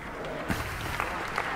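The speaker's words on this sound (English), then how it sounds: "It's pretty tepid applause." Light, scattered clapping from a small group, thin and unenthusiastic, with a few sharper claps standing out against a steady background hiss.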